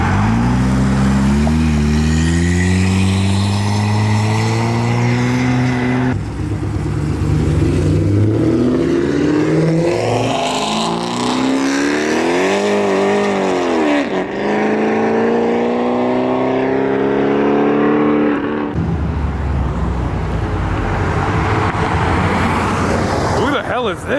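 Modified cars, including a Huracan, rev and accelerate hard as they leave a car meet, engine notes rising and falling continuously and loud at close range, with people talking over them.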